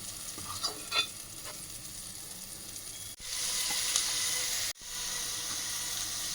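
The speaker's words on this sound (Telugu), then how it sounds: "ఆనియన్స్, చెక్క, లవంగాలన్నీ ఫ్రై చేసుకోవాలండి" Onions, cinnamon, cloves, star anise, cardamom, green chillies and shahi jeera fry in a pan for a mushroom curry, a steady close sizzle that briefly drops out twice as the food is stirred, with no voices.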